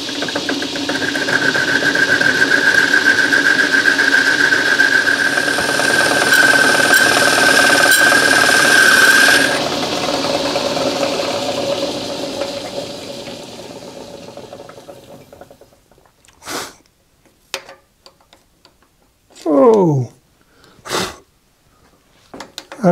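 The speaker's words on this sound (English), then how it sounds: "now I need to bore that out and create a socket for that to sit in" A milling machine bores a quarter-inch-deep socket into a metal workpiece, a steady whining motor hum with a high tonal cutting squeal that runs about ten seconds, then spins down, followed by a few brief clicks and handling noises.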